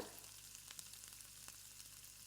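Cumin seeds sizzle and crackle in hot oil for tempering, a steady hiss with scattered small pops, close and fairly quiet, with no talking.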